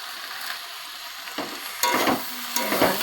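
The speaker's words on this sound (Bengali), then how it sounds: "ভালো করে কষে নেব।" Ghee sizzles steadily in a pan with sautéing food, punctuated by a few scraping stirs of a spoon against the pan; close and moderately loud, no talking.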